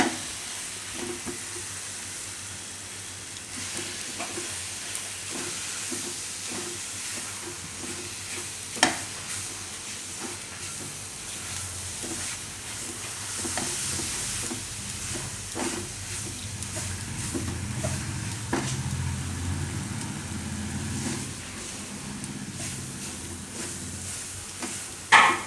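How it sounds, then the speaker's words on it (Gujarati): Mango pulp being stirred into a coconut mixture in a pan over low heat for laddu, a soft continuous hiss and sizzle with scraping stir strokes and a few louder knocks near the end. "તો હવે આપણે એમાં નાખી દઉં આ પલ્પ મેંગોનું. આમાં મિક્સ કરી લેવું."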